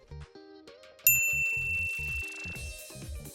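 A bright notification bell dings over a steady electronic beat, its ring lingering and tinkling while the rhythmic pulse carries on beneath.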